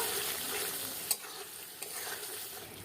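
Aloo dum, a potato curry, being stirred in a pan, with a steady soft sizzle and a couple of brief scraping knocks from the spoon.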